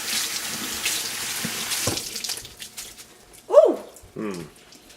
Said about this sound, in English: Just rinse it under warm water if you want to keep it hot.